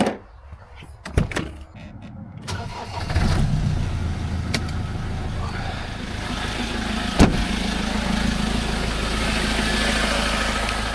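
A car engine idles steadily at close range beside a workshop milling machine, after a few door clunks and knocks at the start, with one sharp bang partway through.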